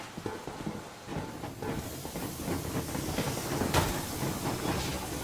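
The Yermak steam train in Metro Exodus rolls forward with a rumbling clatter and hissing steam. A sharp burst of hiss sits near the end, and the sound swells slightly as the train gets moving.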